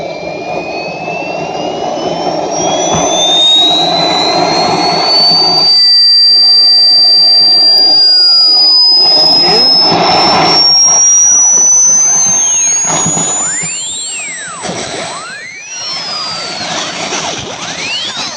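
Swiwin model jet turbine engine during preheating, a loud steady turbine whine with a rising high-pitched tone and sweeping tonal shifts, continuous throughout with no talk.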